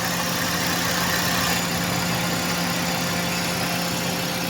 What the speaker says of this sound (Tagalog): Tumining na yung andar.